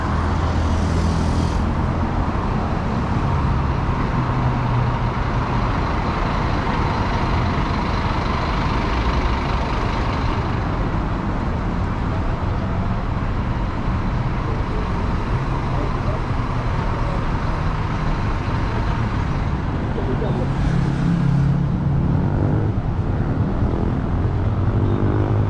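A city bus and traffic on a Kuala Lumpur street, a steady loud engine rumble and road roar that barely changes for the whole span, with passing vehicles swelling slightly at moments.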